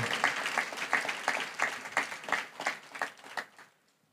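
A church congregation claps in praise of God: a steady, fairly rhythmic round of applause that thins and fades out over a few seconds, moderately distant and with no speech over it.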